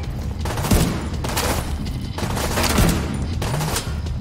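Gunfire in The Division 2 shooter, a few loud, close bursts of rapid shots with rolling echo between them, over a dense game background.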